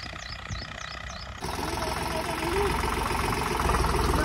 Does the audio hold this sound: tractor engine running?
yes